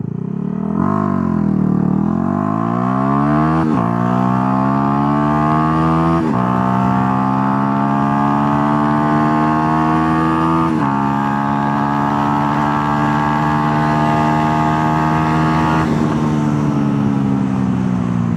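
A Yamaha R125 motorcycle accelerates hard in a 0-60 run. The loud, close engine whine climbs in pitch through several gear changes, each shift briefly dropping the revs before the engine pulls up again, with no speech.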